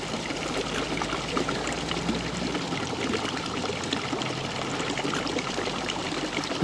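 Water spouts from a toad fountain outdoors, a steady, loud splashing and trickling stream that fills the whole stretch with constant liquid noise and no voices.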